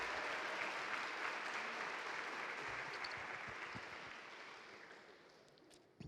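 A church congregation applauding during a sermon, a broad wash of clapping that starts fairly full and slowly fades toward the end, heard at a moderate distance.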